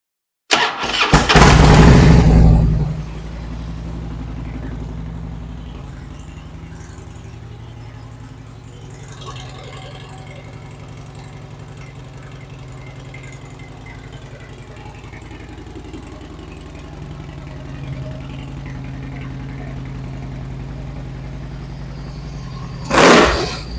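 A 2008 Harley-Davidson Street Glide motorcycle engine cranks and catches with a loud burst, then settles into a steady low idle for a long stretch before a brief rev near the end.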